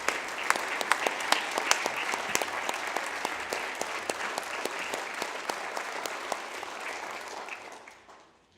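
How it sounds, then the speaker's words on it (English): An audience in the South Dakota House of Representatives chamber applauds with a sustained round of many clapping hands, crisp and fairly near, holding steady before fading out at the end. "Please give them a round of applause."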